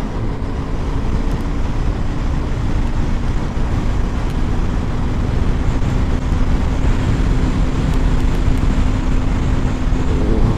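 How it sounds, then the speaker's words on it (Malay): A Modenas Kawasaki Z250 motorcycle engine drones loudly and steadily while riding, a constant rough rumble with no pauses. "memang bunyi enjin, tapi enjin dengan bunyi bising."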